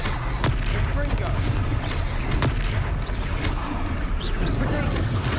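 A Confringo blasting spell explodes in the Hogwarts Legacy video game, a series of sharp booming bursts over a loud, continuous battle din, with voices talking throughout.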